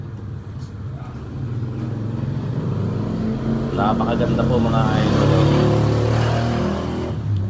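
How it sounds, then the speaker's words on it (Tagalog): Motorcycles with loud exhausts passing on a nearby road, engine roar swelling to a peak and then fading, heard beneath someone speaking close to the microphone. "Pasensya na po sa ingay ng mga malalakas na tambutso ng mga motorsiklong tumadaan."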